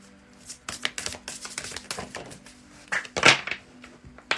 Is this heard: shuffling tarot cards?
yes